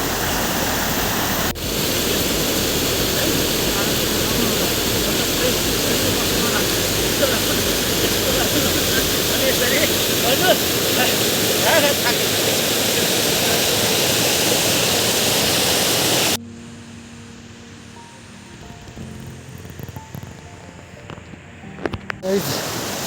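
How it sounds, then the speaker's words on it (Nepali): A river rushes below a bridge on a steep uphill trek toward Bukipatan, making a loud, constant roar for about sixteen seconds before it cuts to a much quieter outdoor hush. "तल बगेको पानी"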